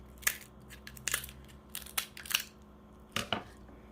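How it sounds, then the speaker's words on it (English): Kitchen shears snip through a lobster shell in a series of sharp, crunchy cracks and clips, irregular and close, spaced out over a few seconds with no talking. "You're going to need some shears, and you're going to get under the shell. And you're going to cut"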